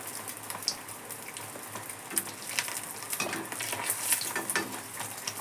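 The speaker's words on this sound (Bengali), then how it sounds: "এবার আমরা এরকম ভাবে একটা একটা করে ভেজে নেব।" Spicy pitha rice cakes frying one by one in hot oil, giving a steady soft crackle and fizz with a few sharper pops, close by and fairly quiet, with no talking.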